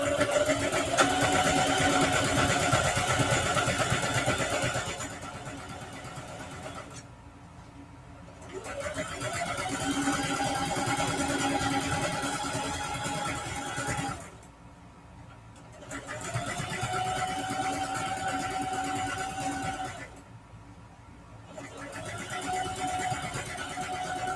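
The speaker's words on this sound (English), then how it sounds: "Change my stitch length back, do a straight stitch." A sewing machine runs a straight stitch on fabric for a collapsible travel shoe bag, whirring in three steady runs of several seconds each, with short quiet pauses between them, close and moderately loud.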